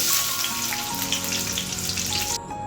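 Oil heating and sizzling in a kadai, a dense, even crackling hiss that holds steady and close for a few seconds before cutting off abruptly.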